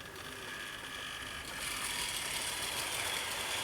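A Wrenn model locomotive strains to haul a rake of 35 coaches, giving a steady, close mechanical whirring and ratcheting drone that grows slightly louder and brighter partway through, with no voices.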